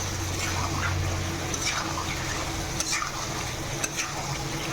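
Chicken curry is stirred in a pot after salt and turmeric go in, with a steady low sizzle and soft scraping and liquid stirring sounds over a constant background hum.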